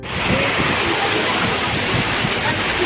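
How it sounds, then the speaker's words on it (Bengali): Heavy rain in the Sundarbans pours down as a dense, continuous hiss and roar, loud and close, with no break. "অলরেডি বৃষ্টি হচ্ছে,"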